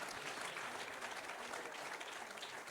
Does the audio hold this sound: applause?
yes